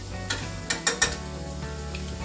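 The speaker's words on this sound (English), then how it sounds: "You don't want your garlic to burn, so we're only going to do that for about a minute or two" Garlic sizzling in a hot pan for a green bean casserole, a soft steady fry broken by a few sharp clinks of a utensil stirring against the pan, close and quiet with no voices.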